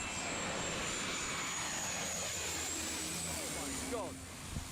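An airplane on approach to St. Barthélemy airport roars loudly and steadily, its engine whine sliding downward in pitch as it passes overhead before fading.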